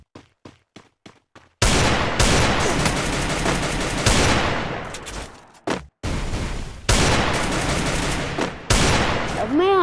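Rapid bursts of gunfire from the Free Fire mobile battle-royale game, a few sharp isolated shots followed by loud, dense sustained automatic fire with brief pauses, close and dominant throughout.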